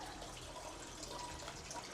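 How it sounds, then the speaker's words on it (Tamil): Water runs steadily at a Pillaiyar shrine fountain in Negombo, Sri Lanka, a faint continuous trickle and splash with no voices over it. "அப்படியே தண்ணியெல்லாம் ஓடிக்கொண்டுக்கண்ணே. இதில் இருந்து இந்த சத்தத்தை கேட்டு கொண்டு இருக்கலாம்."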